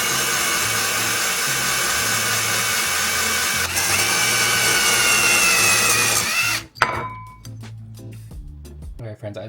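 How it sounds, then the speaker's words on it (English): A diamond drill bit grinds through a vintage ceramic plate, a loud continuous whining drone with a slight rise in pitch, then stopping abruptly and giving way to someone talking over small clatters. "I'm going to switch over to the diamond drill bit and see if I can get this hole to be a little bit bigger"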